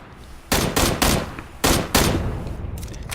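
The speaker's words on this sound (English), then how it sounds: "I'm shooting the vehicle to blow it up" Loud bursts of automatic gunfire in PUBG, fired at a vehicle to make it explode: four or five clustered volleys in quick succession, close and sharp, with no talk.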